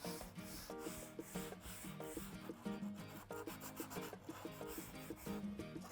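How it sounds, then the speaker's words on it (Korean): Sandpaper rubs back and forth by hand on a wooden corner of a reading-stand project in a woodworking class, a steady rhythmic rasping over quiet background music. "이 귀퉁이를 한번 갈아 보도록 할게요"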